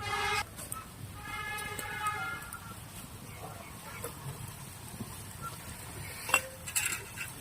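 Leaves dropped into a pan and stirred, a light rustling sizzle with scraping and clattering from a utensil, a knock near the end, and faint background noise.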